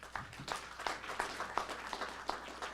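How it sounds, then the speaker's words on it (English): Scattered applause from a small audience at a farm bill listening session in New York, quiet and fairly sparse, with individual claps standing out as a gentle patter over a couple of seconds. "Give yourselves a round of applause"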